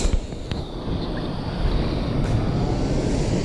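Water current rushes through a spillway in a steady, broadband roar that stays constant and fairly close throughout, with no voices over it.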